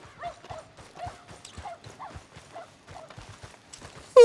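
Dog running in the Western video game Red Dead Online, heard as quick light footfalls and soft yips in a steady patter, with a sharp louder sound bursting in at the very end.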